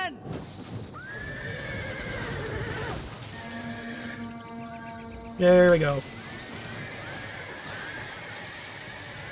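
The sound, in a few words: horses neighing, horse archers in Total War Rome 2 video game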